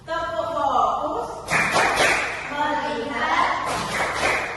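Children chant and clap together in the Indonesian 'tepuk fokus' classroom clap game, a loud burst of sharp group claps breaking in over a teacher's voice and the kids' chanted words.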